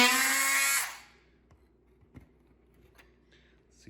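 A power cutting tool makes a clean cut. A bright, loud whirring buzz runs for about a second and then cuts off, leaving quiet room tone and a few faint taps and clicks.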